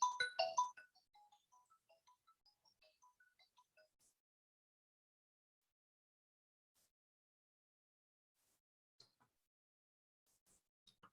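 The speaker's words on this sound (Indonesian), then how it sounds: "Sebentar ya, ada telepon masuk ya." A phone's ringtone for an incoming call plays loudly as a short melodic burst, then continues as a quieter series of evenly spaced beeps that stop after about four seconds, followed by near silence in a lecture setting.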